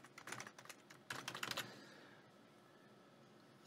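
A wired computer keyboard is typed in quick bursts of clacky keystrokes, then goes quiet under faint room hiss.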